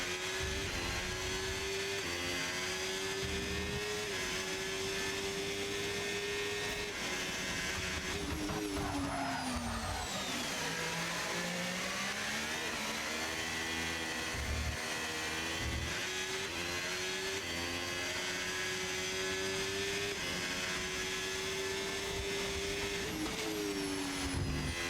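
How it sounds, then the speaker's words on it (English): A race car in Australia, season 11 race 1, holds a steady high engine drone through a lap, with pitch sweeps as it shifts and brakes for corners. The drone is continuous and no one speaks. "Let's see how a champion is driving this lap."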